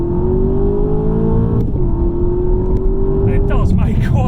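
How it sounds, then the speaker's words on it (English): An Aston Martin DBX V8 exhaust rumbles steadily and loud, with a deep engine drone whose pitch shifts slightly as it revs, then a few sharper clicks and pops toward the end. "So we'll start with the sporting credentials and have a listen to that exhaust."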